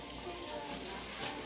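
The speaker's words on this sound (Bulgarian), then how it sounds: "Така ще си го изплакна." Kelp noodles are rinsed under running water, a steady close hiss of flowing water with no talk.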